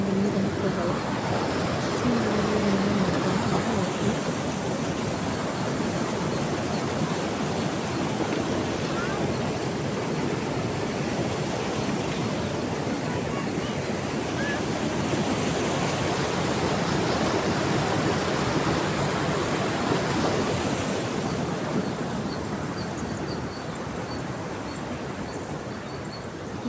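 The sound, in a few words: rushing water flowing at KRS dam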